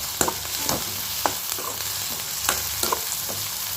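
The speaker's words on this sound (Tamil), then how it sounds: "இப்போ வெங்காயம் நல்லா வதங்குது பாருங்கள்" Onions sauté in a pan for a dried-fish thokku, with a steady sizzle broken by several sharp scrapes and clacks of a spoon stirring close by.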